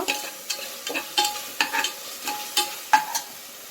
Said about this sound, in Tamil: இதையும் நம்ம நல்லா கிண்டி எடுத்துப்போம்